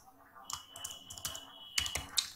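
Computer keyboard keys tapped while entering a URL, a short quiet run of irregular clicks close by.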